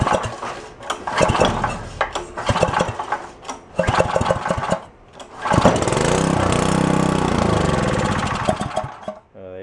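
An abandoned rototiller's small engine sputters through several short firing bursts, then catches and runs steadily for a few seconds before cutting out, loud and close with no talking.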